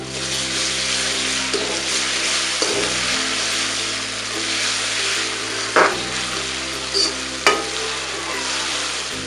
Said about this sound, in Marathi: अडीच चमचा आपल्याला आलं लसणाची पेस्ट टाकायची आहे परतून घेऊया